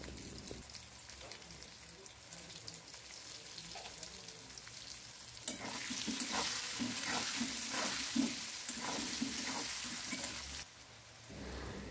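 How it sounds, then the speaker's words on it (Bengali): Potato pieces fry in a pan with salt and turmeric, a soft continuous sizzle that swells louder midway as they are stirred, with occasional scraping and faint talk. "আলুটা ভাজার সময় সামান্য পরিমাণ লবণ আর হলুদ দিয়ে ভেজে নেব।"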